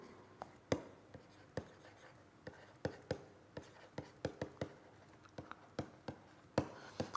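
Writing on a board during a lecture, a series of sharp taps and scratchy strokes at an irregular pace, close and fairly faint, with occasional soft vocal sounds between strokes.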